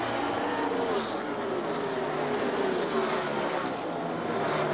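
NASCAR Winston Cup race cars roar at the 2003 DaimlerChrysler 400 finish, a dense continuous engine drone with sliding pitch as cars pass, steady and loud with crowd wash underneath.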